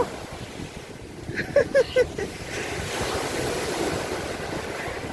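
Wind buffets the microphone and sea waves roll in at a beach on a cold evening, a steady rushing roar, with a few short tonal chirps partway through.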